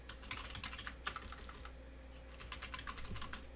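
Rapid typing on a computer keyboard, with bursts of crisp key clicks in uneven rhythm and a brief pause midway, close and fairly quiet over a low steady hum.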